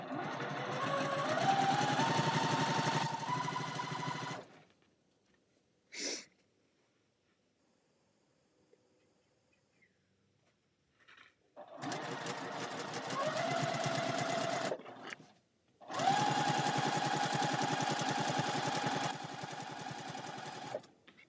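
Sewing machine stitching a quilt, close and loud, running in long whirring bursts of several seconds separated by pauses of near silence, with one brief start between them.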